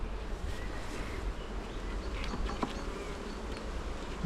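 Honey bees buzz steadily around an open split box hive, a dense continuous hum close by with individual bees droning past, and no talking.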